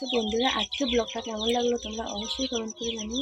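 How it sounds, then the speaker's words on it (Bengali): Chickens chirping and twittering in a home yard, a steady scatter of small calls running beneath continuous nearby talking. "এই দেখতে পাচ্ছ আমাদের মুরগিগুলো কেমন কিচিমিচি করছে,"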